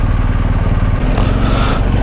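A motorcycle engine drones steadily up close as it rides through dense New York City traffic, with a constant throaty rumble and wind noise and no speech.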